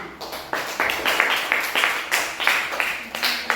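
Classroom audience applauding a student group's presentation at an Indonesian Islamic institute, with steady overlapping claps in repeated surges that stay moderately loud throughout.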